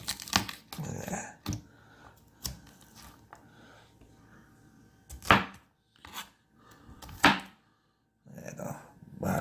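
A Kaizen Japanese chef's knife chops food on a board in a string of sharp, close, irregular cuts, loud single strokes separated by quieter pauses and brief faint voices.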